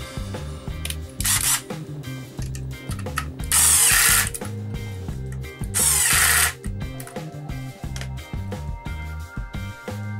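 A power drill drives screws into a wooden under-stairs pantry frame in two long, loud whirring bursts, with quieter tool handling and clicks between them.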